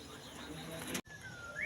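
Young pigeon chicks give thin, rising peeping calls near the end of a short stretch. A steady hiss of outdoor noise sits under them, and a brief dropout cuts the sound partway through.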